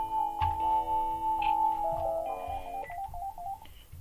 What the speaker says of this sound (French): Excusez-moi pour le téléphone, c'est le Bronx ici